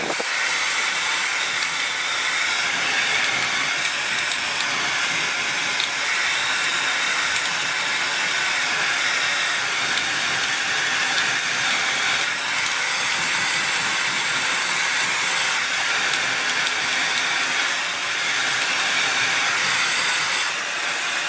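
A T3 Aire IQ blow dryer on its regular manual setting drying hair, a loud steady airy whoosh with a constant motor hum, close and unbroken, with no talking.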